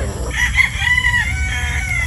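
A rooster crows in a drawn-out call over a steady low background hum, fairly close and clear.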